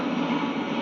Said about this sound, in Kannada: ಗ್ರೈಂಡರ್ ಗ್ರೈಂಡರ್ ತುಂಬ ಸೌಂಡ್ ಬರ್ತಾ ಇದೆ